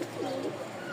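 A young male Lotan pigeon coos nearby, giving one low, rolling call that rises and falls and stands clearly over a quiet background.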